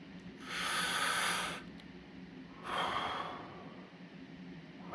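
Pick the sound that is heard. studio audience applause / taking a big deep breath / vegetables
taking a big deep breath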